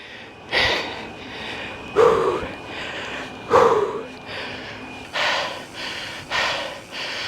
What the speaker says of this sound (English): That's legit heavy breathing